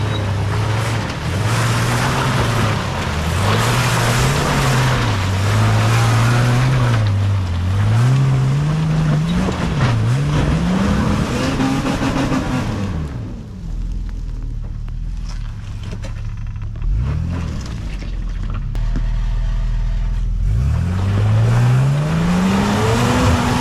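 A 4WD Nissan Patrol's engine straining up a steep, muddy track in heavy rain, revving loud and close in long rising and falling surges that fade into a quieter idle before one last climbing rev.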